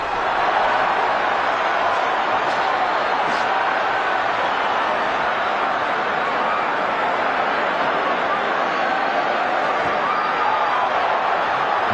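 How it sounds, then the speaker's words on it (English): An arena crowd at a Roy Jones Jr. boxing match in Indianapolis gives off a steady, dense roar that fills the whole stretch, with a commentator's voice over it. "the crowd responds to him"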